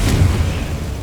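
A fiery Confringo spell explosion in Hogwarts Legacy: a single loud, broad blast with a heavy low rumble that decays over about a second, close and alone.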